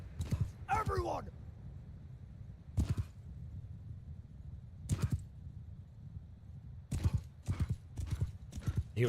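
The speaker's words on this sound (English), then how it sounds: "Hearing the thundering hooves" Cavalry hooves clatter in a Bannerlord battle, with horses whinnying in the game mix; rapid clip-clop drums steadily throughout, overlaid by bursts of shouting voices and brief sharp hits.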